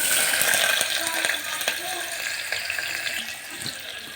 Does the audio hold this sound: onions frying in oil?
yes